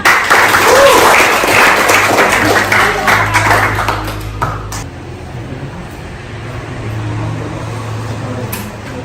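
Classroom applause for a student group: sustained clapping from many hands fills the first few seconds, loud and dense, then thins out and fades into a low room murmur with faint voices.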